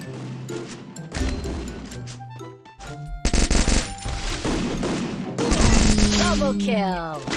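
Rapid bursts of automatic gunfire from a Mini Uzi in a 4v4 Free Fire match, sharp rattling volleys broken by short gaps, with game effects and talk mixed in.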